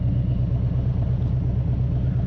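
A Harley-Davidson M8 motorcycle engine while riding gives a deep, steady low rumble with a throbbing, pulsing rhythm, close and loud throughout, with no talking.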